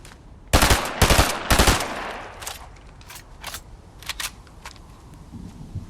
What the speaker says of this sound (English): The reason why I'm shooting at that guy is literally just to make him build.